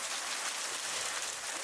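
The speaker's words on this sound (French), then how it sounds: "Ça grêle carrément." Hail falls during an outdoor round at the French disc golf championships, a dense, even hiss of pelting ice that stays constant throughout.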